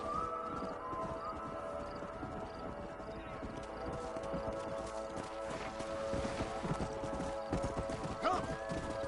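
Horses' hooves clip-clop at a steady walking rhythm in the Western video game Red Dead Redemption, moderately close and mixed with game ambience, tonal background music and a brief whinny near the end.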